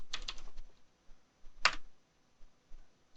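Keys tapped on a computer keyboard: a quick cluster of clicks at first, then a single sharp keystroke after a pause, with a few faint taps trailing off in a quiet room.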